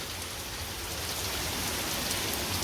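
Rain falling steadily outdoors, a dense continuous hiss of drops on surfaces, even in level and fairly close, with no voices.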